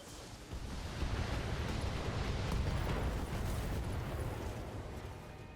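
Weapon volley explosions in a mech combat video game: a dense, sustained roar of blasts and rumble that swells within the first second and holds loud and steady to the end, with no talking.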